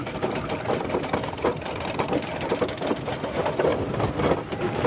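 A Philadelphia Toboggan Company wooden roller coaster at Six Flags Over Georgia rattles along its track, a dense, rumbling clatter with rhythmic knocks, loud and close throughout with no talk.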